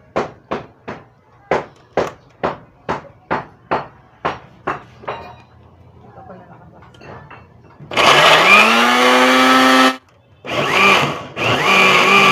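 Kitchen blender whirring loudly as tomatoes are blended for preserving, a steady roar with brief stops and restarts, preceded by a series of sharp rhythmic knocks.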